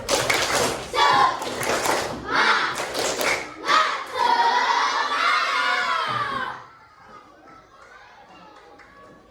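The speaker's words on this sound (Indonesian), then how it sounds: "kita tepuk semangat lagi. Tepuk semangat." Primary school class doing a rhythmic spirit clap with chanting, a burst of loud patterned claps and children's shouted voices, then a drawn-out group cry that cuts off into a quiet room.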